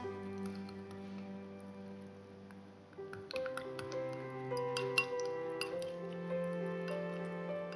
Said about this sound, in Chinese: 再将榴莲果肉和玉米油搅拌至乳化备用